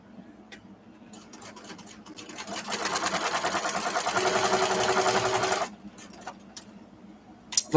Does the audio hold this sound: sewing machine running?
yes